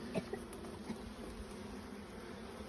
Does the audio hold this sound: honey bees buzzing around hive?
yes